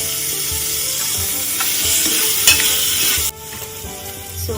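Potato pieces and masala fry in a pan while being stirred, a close sizzling hiss with scraping spoon strokes; the frying noise drops sharply near the end, and no one speaks.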